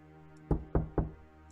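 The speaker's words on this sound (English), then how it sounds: "I heard a knock on the side door" Three firm knocks on a side door leading from a laboratory out to a forest, evenly spaced and close, with silence before and after.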